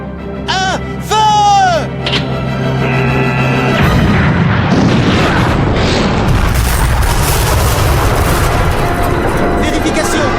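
Cannons fire in an animated Hunter X Hunter episode: a few tonal effects come first, then a heavy sustained blast and roaring rumble that fills the rest, loud and dense to the end.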